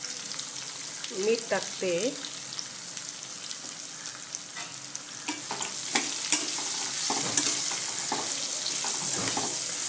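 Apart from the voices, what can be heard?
bottle gourd pieces sautéing in oil with turmeric and chili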